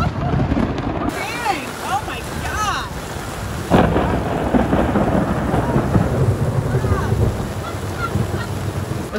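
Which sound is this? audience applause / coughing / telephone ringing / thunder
thunder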